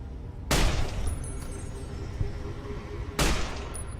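Two loud, sharp gunshots crack out about three seconds apart in the Fallout video game, each decaying into a low rumbling tail, with faint ambient game sounds between them.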